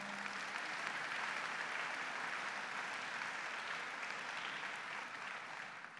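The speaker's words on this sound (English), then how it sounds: "Let's give them a round of applause." Sustained applause from a large audience at a gubernatorial swearing-in ceremony on Ellis Island, steady dense clapping throughout that fades slightly near the end.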